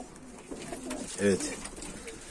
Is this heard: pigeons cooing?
yes